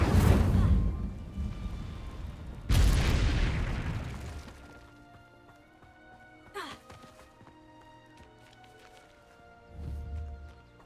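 A fiery whoosh-boom bursts out as the Incendio spell is cast in Hogwarts Legacy, two heavy blasts in quick succession at the start that fade into a decaying roar, followed by quieter game effects and a brief spoken shout.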